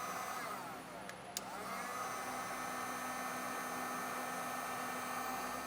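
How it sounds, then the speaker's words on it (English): A heat gun shrinks heat shrink tubing over a butt connector while wiring a Curt T-connector harness on a 2021 Jeep, giving a steady, close blowing whir that holds at an even level throughout with no talking. "Now we'll come back through with a heat gun and shrink down the heat shrink butt"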